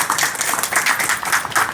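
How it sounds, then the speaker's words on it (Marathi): Audience applause at a Marathi devotional discourse on the saints Janardan Swami and Eknath Maharaj, a brief, dense burst of many hands clapping together, sustained throughout at a moderate, even level. "एकदा जोरदार टाळ्या"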